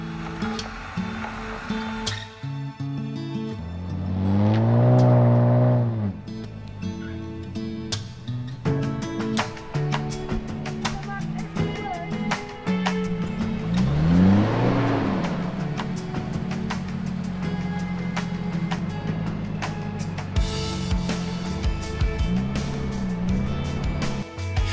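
Off-road vehicles labor through soft desert dunes in Namibia, their engines rising and falling in two strained revving surges under steady background music, with no speech.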